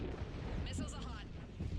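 Missiles launching and exploding during combat in Mass Effect 3, a dense rumbling barrage of blasts and booms filling the short stretch, with voices partly heard over the noise.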